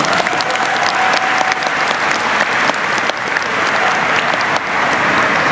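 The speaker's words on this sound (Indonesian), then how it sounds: "Tepuk tangan dong" Loud, dense applause from a large audience at an Indonesian event celebrating Olympic gold medals, steady clapping with crowd noise throughout.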